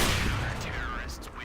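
Gunfire in a first-person shooter game, a dense, loud burst of shots with an echoing tail over continuous game background noise.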